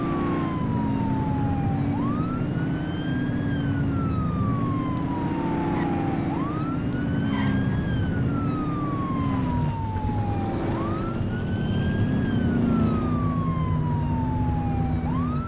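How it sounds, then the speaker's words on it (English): Police car siren in the video game The Precinct, stuck on through an audio bug: a loud, continuous wailing siren sweeps up and down in steady repeating cycles, with a low engine rumble underneath and no voices. "the siren is still going even though I've turned it off"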